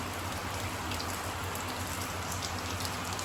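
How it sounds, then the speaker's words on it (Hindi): Heavy rain falls in a dense, continuous hiss with fine droplet patter throughout, steady and unbroken at a moderate level, with no one speaking. "अब आई है तेज बारिश"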